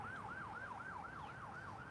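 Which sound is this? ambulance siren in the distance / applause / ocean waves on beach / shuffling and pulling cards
ambulance siren in the distance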